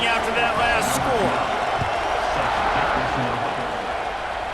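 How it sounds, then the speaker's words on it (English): Football stadium crowd at Michigan versus Penn State buzzing after a touchdown, a dense steady roar of many voices filling the whole stretch, with a play-by-play announcer talking over it. "this crowd is buzzing after that last score."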